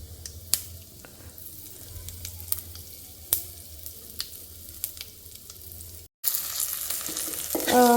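Cumin seeds and spices sizzle softly in hot oil in a home kitchen, a low steady crackle punctuated by occasional sharp pops and clicks, followed by a louder burst of frying near the end.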